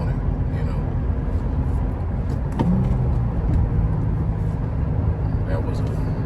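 Infiniti G35 sedan with a six-speed manual, its engine droning steadily from inside the cabin, pitch shifting briefly around a gear change as the car is driven.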